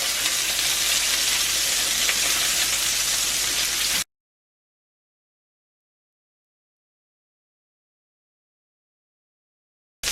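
Meatballs browning in a frying pan give a steady, close sizzle for about four seconds, then silence falls until a brief burst of sizzling returns at the very end.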